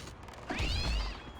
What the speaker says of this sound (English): there's literally a prompt there so you can catapult the cat.